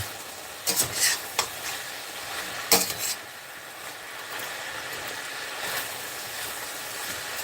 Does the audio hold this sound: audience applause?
no